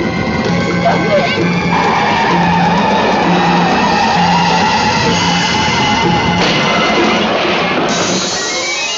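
A car brakes hard and its tires skid and squeal in a long, loud screech over engine noise, sustained for several seconds with a shift in pitch near the end.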